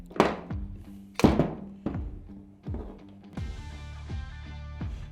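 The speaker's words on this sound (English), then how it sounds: "if we undo this one at the bottom, the magazine will separate away from the nose and also the body of the gun" Metal-on-metal thunks as the magazine of a pneumatic post stapler is undone and pulled away from the nose and gun body, four or five close, sharp knocks with ringing tails, followed by a lighter metallic rattle.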